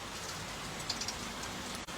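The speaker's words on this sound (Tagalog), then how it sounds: "Ayan na naman, ulan na naman." Steady rain falls with a constant hiss, a few louder drops standing out briefly.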